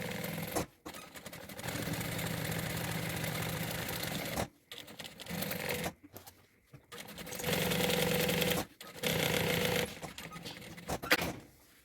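A sewing machine stitching closed the sides of a bag in several long runs of fast, steady needle chatter, broken by short pauses, close and clear with no talking.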